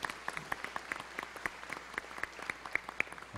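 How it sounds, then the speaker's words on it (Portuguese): Applause for the Santos Dumont Foundation during a formal ceremonial session, a steady patter of many hands clapping at moderate distance, fairly quiet and without speech. "Uma salva de palmas para essa nossa associação"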